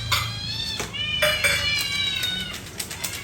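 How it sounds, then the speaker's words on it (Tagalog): Several hungry cats meow repeatedly near a home kitchen, their drawn-out, overlapping cries rising and falling with little pause. "Kaya nag-iiyakan na yung mga pusa, nagugutom na sila."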